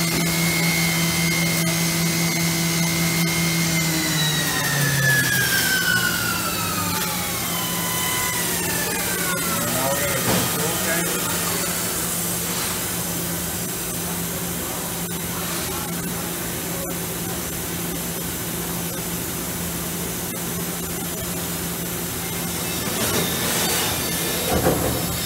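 A Mazak FH6000 horizontal machining center from 2002 runs its spindle, a steady loud machine whine with tones that sweep downward in pitch over the first ten seconds, then settle into a continuous hum with shop noise.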